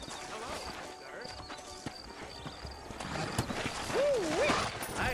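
Steady clip-clop of horse hooves at a trot in Red Dead Redemption on a PS3 emulator, moderately close, mixed with ambient game sounds and a brief whinny-like tone near the end.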